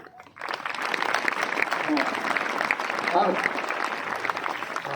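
Dense, loud applause from a school crowd at a medal ceremony starts abruptly after a brief pause and carries on steadily, with a voice briefly audible within it.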